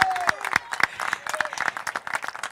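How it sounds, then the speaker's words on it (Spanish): Applause for the winners at a horse race awards ceremony: a modest group claps in uneven, distinct hand claps at close range, with a voice briefly audible near the start. "el aplauso para los ganadores"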